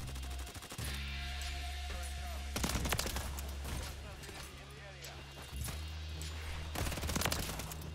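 SMG fire in a Call of Duty video game comes in repeated rapid bursts, loud and close, over a droning game background, with someone talking at times.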